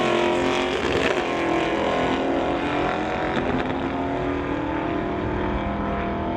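A 1991 Chevy and another outlaw street car launch down an eighth-mile drag strip, engines roaring loud and sustained for the whole run, with gear-change shifts in pitch.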